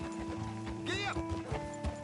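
A horse in Red Dead Redemption 2 moves along with soft clip-clop hoofbeats and a brief whinny, set among game music and a short spoken line.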